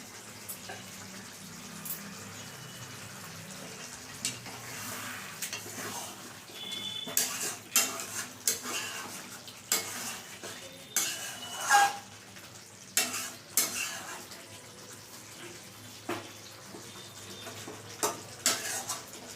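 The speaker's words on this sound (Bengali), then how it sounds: "এবার সামান্য একটু ঘি দিয়ে দিচ্ছি" Cauliflower roast frying with a little ghee in a pan, a faint steady sizzle under repeated sharp scrapes and clinks of a spoon stirring against the pan, no voices.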